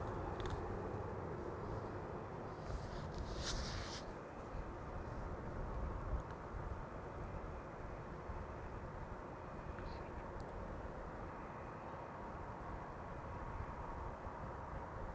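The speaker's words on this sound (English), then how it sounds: "this is KLM flight 1030 turning into the central runway by the looks of it" A KLM airliner taxiing and turning onto the central runway at Amsterdam Schiphol on a sunny morning, a steady distant jet engine drone with broadband rumble holding throughout, plus a few brief faint higher noises early on.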